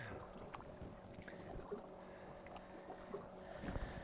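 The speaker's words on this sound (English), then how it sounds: "That was a Wiley boat that went by." A boat motor drones at a distance while muskie fishing, a low steady hum over faint water and wind noise, rising slightly toward the end.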